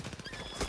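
A horse in the video game Far Cry 6 gallops with rapid clip-clop hoofbeats and lets out a brief neigh near the end, the whole sound short and moderately quiet.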